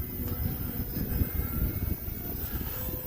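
An E-flite T-28 radio-controlled model airplane flying, its motor a faint, distant steady drone that swells and fades slightly with wind noise, no talk.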